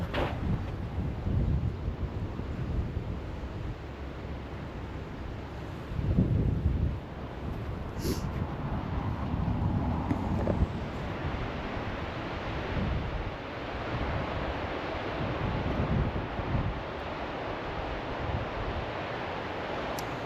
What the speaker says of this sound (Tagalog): laging mahangin dito, malakas ang alon